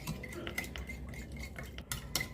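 A spoon stirs oyster sauce and otap bread in a pot, making soft scraping sounds and light clinks against the metal, close and quiet, with no talking.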